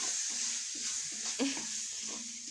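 Food frying in a pan for a rice-and-jaggery sweet with cashews, a soft continuous sizzle with faint stirring, under a murmuring voice.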